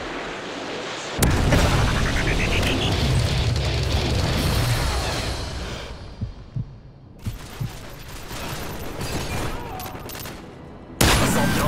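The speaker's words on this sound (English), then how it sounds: "Friendly Predator missile inbound." A Predator missile strike in Modern Warfare 3: a sudden loud boom opens a long, rumbling roar of explosion and debris that fades slowly. Later come scattered thuds and crackle, then another abrupt loud burst at the end.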